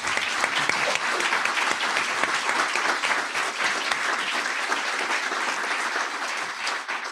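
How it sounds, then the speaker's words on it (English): Audience members at a Manhasset Board of Education candidate forum applaud the candidates with brisk, steady clapping that carries evenly throughout at close range. "Let's applaud them for this."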